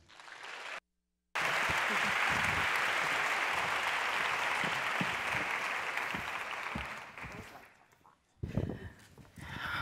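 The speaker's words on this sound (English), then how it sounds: "one more round of applause for Lisa Mae" Audience applause at a mainstage tech talk event, dense and steady clapping filling the room after a brief gap, thinning toward the end before a few louder claps and stirring resume.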